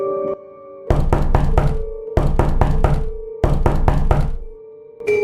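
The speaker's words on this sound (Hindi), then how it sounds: "किसी ने दरवाजा खटखटाया" Three bursts of rapid knocking on a door, four sharp raps each, separated by short pauses, loud and close.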